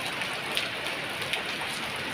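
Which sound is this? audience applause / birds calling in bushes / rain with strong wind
rain with strong wind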